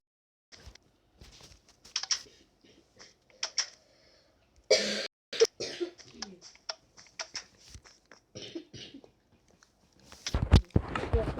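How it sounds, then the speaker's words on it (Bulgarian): A person coughs in a few sharp bursts amid scattered clicks and small handling noises, with some quiet talking in between. "Я кашля на клип съм."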